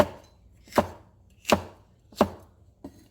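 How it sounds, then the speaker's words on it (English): A knife slices through a mild chili pepper on a cutting board, giving four crisp, evenly spaced chops that land against the board up close, with nothing else heard. "This one I'm gonna slice because this is not spicy"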